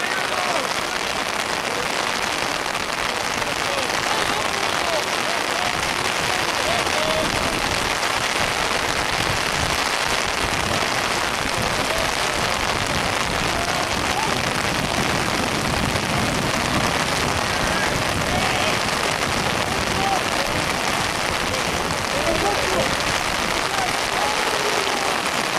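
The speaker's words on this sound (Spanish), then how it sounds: "Gracias al gran Adrián Pará pudimos tener un paraguas justo cuando se puso a llover." Rain falls steadily on an umbrella and surrounding surfaces during an intermediate school sports match, a continuous close hiss and patter lasting throughout with no clear break.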